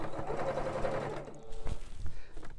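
An AccuQuilt fabric die cutter runs steadily as fabric is fed through, a continuous mechanical whir with a faint tonal hum, fading into softer handling noises toward the end.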